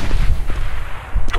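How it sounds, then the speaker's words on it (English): Grenade blast in Counter-Strike: Global Offensive, a loud, boomy, low rumbling explosion that fills the short moment and rolls on without clear breaks. "Throwing a grenade. Grenade out."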